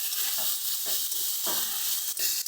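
Mixed vegetables with spices and a splash of water are stirred in a pan, giving a steady wet sizzle broken by repeated scraping strokes of the spoon, close and fairly loud.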